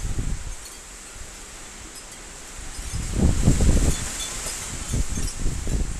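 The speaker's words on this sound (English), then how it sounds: "Very windy." Wind gusts in bursts against a rustling background, swelling and fading with leaves stirring, buffeting noise rising louder toward the middle and end.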